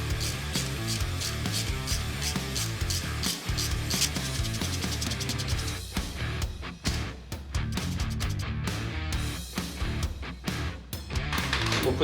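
A ratchet wrench loosens a starter bolt on a vehicle, giving fast, repeated metallic clicking that runs steadily at first, then breaks into choppier bursts, close and clear with no talk.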